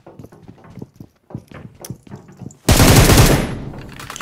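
Gunfire in the PUBG Mobile video game, a loud close burst of shots near the end, after a stretch of quiet clicking and tapping.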